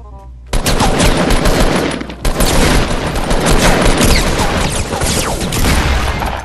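Rapid, dense automatic gunfire bursts loud and close in the Fortnite video game on PS4, sustained for several seconds with a brief break after a quiet start.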